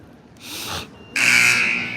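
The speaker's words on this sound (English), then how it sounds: "Heard the buzzer go off." A loud electronic buzzer at a girls' high school basketball game blares in two bursts for a 60-second timeout, the second longer and harsher, like an arena timeout horn.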